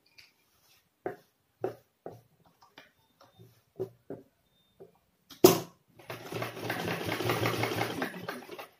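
Several sharp clicks and handling taps come first, then a sewing machine stitches a kurta placket in one steady, close run lasting a few seconds.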